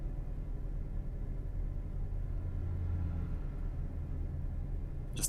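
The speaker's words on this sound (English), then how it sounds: "engine sounds, especially on headphones or good speakers." In Euro Truck Simulator 2, a truck's engine drones as a steady low rumble while cruising at about 80 km/h, with faint passing traffic and a brief sharp noise at the very end.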